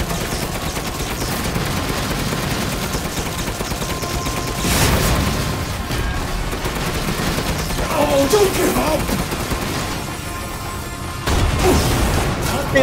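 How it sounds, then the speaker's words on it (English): Rapid, sustained gunfire in a battle scene, with dense bursts of shots layered over constant loud noise and crashes across the whole stretch, plus a few shouting voices mixed in. "Keep shooting!"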